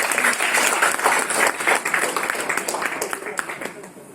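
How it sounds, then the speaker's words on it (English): A student orientation audience claps for the introduced team heads, loud at first and then thinning into scattered individual claps toward the end. "Can we give a big round of applause?"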